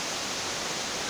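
A waterfall in Atalanta, Santa Catarina, roars as a dense, steady rush of falling water, broad and unbroken throughout, with no voices over it.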